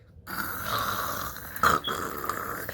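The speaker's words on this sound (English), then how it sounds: "She began snoring loudly. Let me hear you snore." A close, loud drawn-out snore with a rattling, snorting texture, likely a voice acting out snoring, with a sharper snort partway through.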